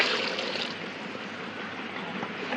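Water poured into a pot of meat and masala for dum biryani, a steady broadband rushing splash that eases slightly after the first moment, close and continuous.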